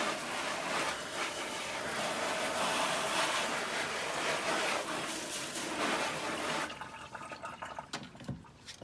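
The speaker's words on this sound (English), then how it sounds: "just go ahead and hit it with the hose" Garden hose spraying water onto a screen-printing screen to rinse out loosened ink, a steady broadband hiss of spray that runs for several seconds, then drops in level and turns patchier near the end.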